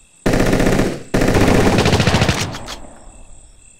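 Two loud, close bursts of rapid automatic gunfire from the video game Soldiers of Anarchy, the second burst longer and trailing off with a couple of final shots.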